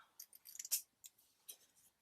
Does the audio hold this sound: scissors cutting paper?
yes